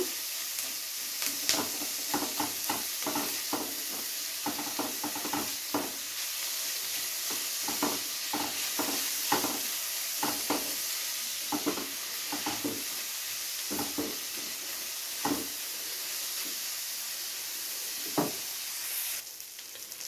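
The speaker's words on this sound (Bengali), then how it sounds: "মিডিয়াম টু লো আঁচে এটাকে একটু হালকা করে ভেজে নেব" Chopped onion with a pinch of salt frying in oil over medium-low heat for paneer butter masala: a steady soft sizzle with repeated clacking stirs scraping the pan, close and alone without talk.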